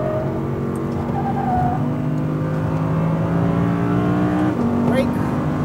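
An Audi R8 V10 RWD accelerates hard around a race track, its engine droning steadily with rising harmonic pitch and a brief shift near the end, loud and close throughout, while an instructor's voice talks over it.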